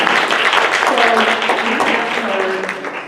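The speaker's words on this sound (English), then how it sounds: "Let's give her another round of applause." An audience at a women's business conference applauds in a dense, steady wash of clapping that fades slightly toward the end, with faint voices mixed in.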